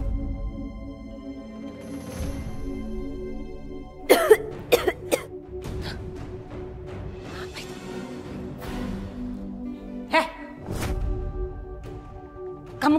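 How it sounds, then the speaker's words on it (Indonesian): A person coughs repeatedly in harsh bursts, with clusters of coughs and some throat clearing over a sustained background tone, in an Indonesian drama scene. "Kamu kenapa batuk-batuk, ha?"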